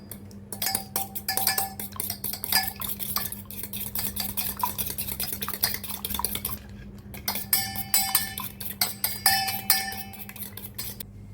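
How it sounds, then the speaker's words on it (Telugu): Eggs beaten with salt in a bowl for a mushroom omelette, making rapid, close clinking and whisking strokes of utensil on dish in two bursts separated by a short pause, with no speech. "ఇప్పుడు దీన్ని బాగా బీట్ చేసుకోండి"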